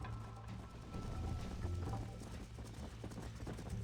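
A horse's hooves clip-clop in a steady, quick rhythm across the ground in the video game Red Dead Redemption on Nintendo Switch, close and continuous with no talk over it.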